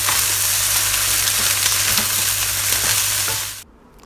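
Pineapple fried rice with chicken and shrimp is stir-fried in a pan, giving a loud, close, continuous sizzle with scraping stirs that stops abruptly near the end.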